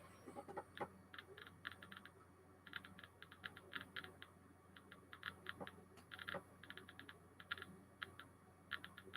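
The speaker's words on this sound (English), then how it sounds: "Really, really good classic Geiger counter piezo clicking on these as well" A Soviet DP5 Geiger counter's piezo speaker clicks in irregular bursts, crisp sharp ticks clustering and spacing out unpredictably, fairly close and alone over a faint hum.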